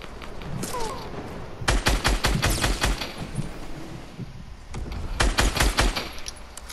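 Fortnite gunfire, dense bursts of rapid automatic shots crackling in clusters, loud and close, pausing briefly before another volley, with a few faint game sounds between.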